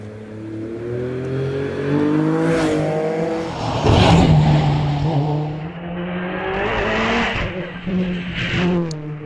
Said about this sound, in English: Been hill climbing this particular Porsche for 40 plus years.